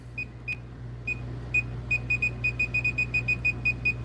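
A circuit tracer gives a series of short, high electronic beeps while locating a breaker, sparse at first then quickening into a steady rapid rhythm, over a low constant hum.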